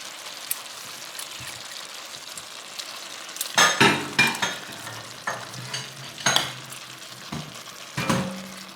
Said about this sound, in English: Let's just add the shrimp right on in there.